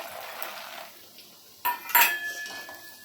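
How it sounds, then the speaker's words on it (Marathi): Peanuts are tipped into a pan while making corn chivda. A faint scrape gives way to two sharp metallic clatters of nuts hitting the pan, fading into a soft rattle. "आता इथे मी शेंगदाणे हे टाकून घेते"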